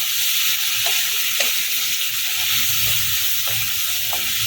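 Spiny gourd (kakrol) being stirred and mixed in a pan, a steady close sizzle and hiss running throughout with soft scraping strokes of the spatula here and there.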